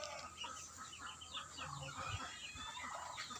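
Chicks and a mother duck sit together in a coop. Soft clucking mixes with a scatter of quick, high peeps, close by and continuous, with no talking.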